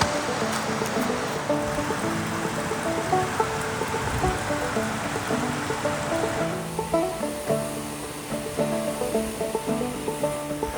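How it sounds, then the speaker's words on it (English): A waterfall along the Virgin Falls trail gives a steady, broad rush of falling water that fills the whole stretch. It stays constant and fairly close, with no voices over it. "Waterfall number 2."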